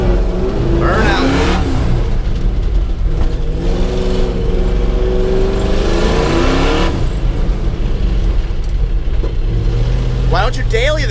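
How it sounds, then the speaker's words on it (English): A boosted Mazda Miata's engine revs hard and roars loudly throughout a burnout, tires spinning, with voices faintly audible over the noise. "Burnout."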